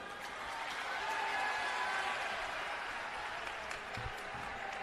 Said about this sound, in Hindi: एक बार पुनः जोरदार तालियों से सभी संत महापुरुषों के चरणों में नमन